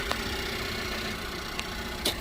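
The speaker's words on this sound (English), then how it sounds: "You can hear this car is not fluctuating and idle at all." A Cadillac ATS engine idles steadily with an even, low hum and no fluctuation, heard alone and moderately close, with a couple of faint clicks.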